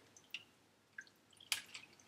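Chicken stock drips through a strainer in a few sparse, faint drops with quiet pauses between them, with no voices.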